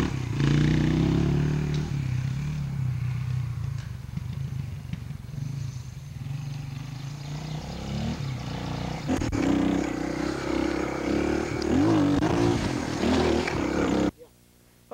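Engine drone of a Suzuki dual sport motorcycle riding a trail at a 1993 Hocking Valley event in Logan, Ohio, steady and loud throughout with clattering over rough ground, cutting off abruptly near the end.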